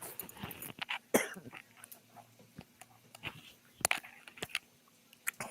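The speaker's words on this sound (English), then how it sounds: "You make me cough." Scattered short coughs and throat-clearing sounds, several sharp bursts spread unevenly over a quiet background.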